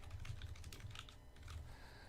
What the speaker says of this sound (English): I cannot spell when I'm live typing